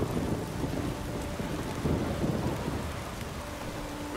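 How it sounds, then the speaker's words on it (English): Heavy rain pours steadily in The Witcher 3 video game, a dense hissing downpour under rolling thunder that swells and fades throughout. "Rain in fucking buckets."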